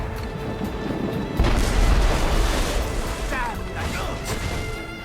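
Ship cannons firing during a naval battle in Assassin's Creed Rogue, a heavy crashing boom followed by rolling rumble and splashes, with shouted crew voices over the din.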